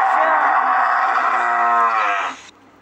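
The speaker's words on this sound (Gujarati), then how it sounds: "BUFFALO, બફેલો એટલે" A buffalo lets out one long, loud moo of about two and a half seconds, close and alone, fading out at the end.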